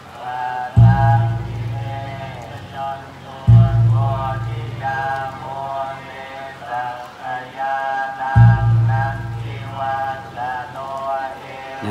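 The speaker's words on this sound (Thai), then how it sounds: "ฝนเริ่มหนาเม็ดนะครับ" Rain grows heavier over a Buddhist amulet-blessing ceremony just after candles are put out, a steady patter on surfaces beneath loud sustained tonal sounds that swell and drop several times.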